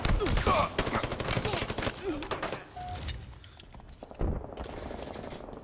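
Gunfire in the video game Halo Infinite during a team slayer match on the map Recharge, dense rapid volleys of shots close and loud, thinning into sparser bursts with game effects in the background.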